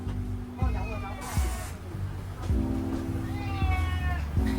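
Cats in a shop in Tai Wai, Hong Kong, meow several times, close and clear, over a low background hum and some faint voices.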